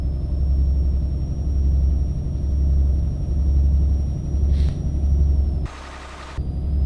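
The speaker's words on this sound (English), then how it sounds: "Nice kind of turbo whine, nice throaty kind of V8 sound." A V8 car engine with a turbo, heard from inside the cabin: a steady, throaty low rumble with a thin, faint whine above it, dropping away briefly near the end.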